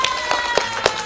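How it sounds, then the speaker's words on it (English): Applause from an audience for the developer Wing Tai at a property talk, with sparse, slightly uneven claps heard up close over a short stretch and a steady faint tone underneath. "So let's give Wing Tai a round of applause."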